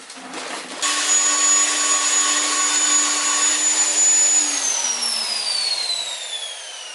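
A power mixing paddle whirs in a bucket of board finish plaster and water, a steady high-pitched motor whine that starts abruptly, holds, then drops in pitch as it slows.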